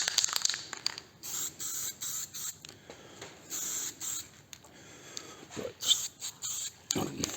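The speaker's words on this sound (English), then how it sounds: "just give these a spray on the other side" Repeated short hissing bursts of aerosol spray paint, close by, with brief pauses between each spray.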